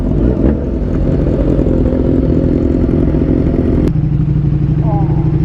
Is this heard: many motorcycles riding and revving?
yes